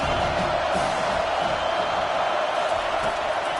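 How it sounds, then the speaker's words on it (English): A football stadium crowd roars steadily and loudly for the defense before a big third down, a dense continuous wall of cheering and yelling at a distance, with no clear individual voices. "Big 3rd down as the crowd gets behind this defense."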